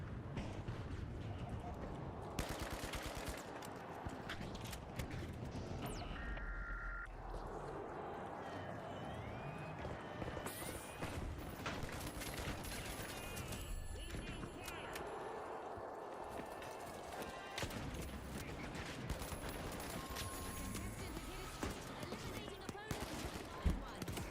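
Gunshots from The Finals, with scattered automatic bursts and single shots in a busy match, moderately loud amid footsteps and game effects, with players talking over the action.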